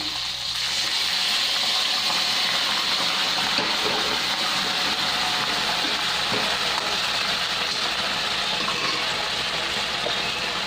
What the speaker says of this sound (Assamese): এতিয়া মই অকণমান গৰম পানী দি দিছোঁ।